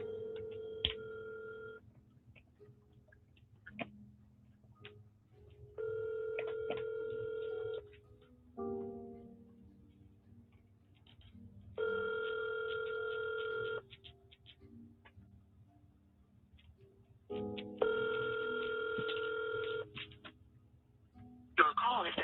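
Phone call being placed: repeated electronic ringback tones in regular bursts with quiet gaps between them, faint, with brief dialing beeps and a little background noise.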